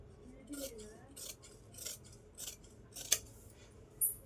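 Scissors snip through blouse fabric in a series of short, crisp cuts spaced about half a second apart, close and fairly quiet, with a soft metallic click near the end.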